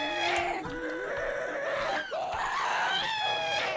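Minecraft ghast shrieks rise and fall during a ghast grinder build, several wailing, high cries overlapping in quick succession, loud and continuous with no talk.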